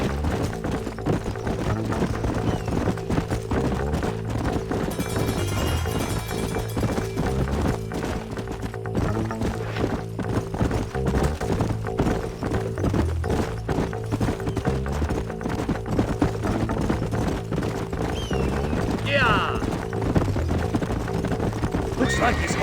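Horses in the Western video game Red Dead Redemption clip-clop in a steady trotting rhythm, with whinnies and game music underneath throughout.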